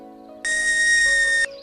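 A pen cap blown across its opening gives one steady, shrill whistle held for about a second, loud and close, with no talking over it.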